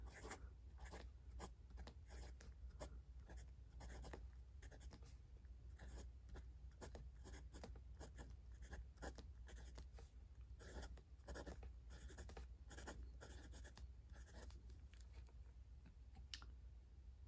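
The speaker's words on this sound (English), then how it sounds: "let's write the ink here as well" A Monteverde Napa fountain pen writes on paper with ink, giving a steady run of soft nib scratches and small taps, quiet and close, with no talking.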